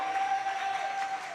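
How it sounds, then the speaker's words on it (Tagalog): A church congregation breaks into loud applause during a Filipino preaching service, a brief dense burst of clapping from many hands with no pause. "pamalakpak tayo ng malakas na palakpak"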